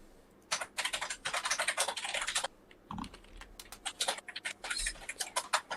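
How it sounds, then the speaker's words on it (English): Several people type on computer keyboards at once, producing rapid, dense bursts of clicking keys with short pauses between, close and fairly quiet. "Everybody can hear everybody's typing."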